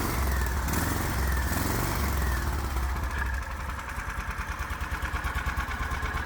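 Predator 420 engine idling in a Hisun Strike 4x4 with no air filter fitted, a steady low rhythmic putter with an even pulsing exhaust beat, close and moderately loud throughout.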